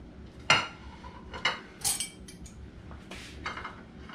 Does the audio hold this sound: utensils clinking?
yes